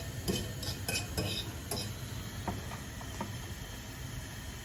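Eggs being scrambled in a pan for a home brunch: a quiet, steady sizzle with a few light scrapes and clinks of a utensil against the pan near the start, with no talking.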